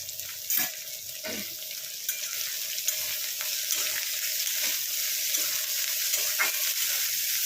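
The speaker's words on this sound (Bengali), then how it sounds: "করলাগুলো এবার ভালো করে ভাজবো, একটু আঁচটাকে জোর দেবো" Bitter gourd pieces fry over high heat in a pan, a steady close sizzle with occasional sharp stirring scrapes and clicks of the utensil, no talking.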